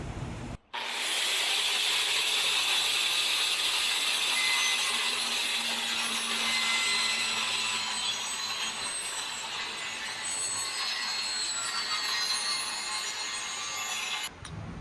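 A handsaw cuts pieces of wood for curved corners in rapid, continuous rasping strokes, close and fairly loud, starting after a brief pause and stopping at the very end.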